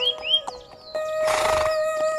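A horse trotting as a storytelling sound effect: a few sharp hoof clops, then a loud, drawn-out whinny over a bright steady tone, close and clear with no talking.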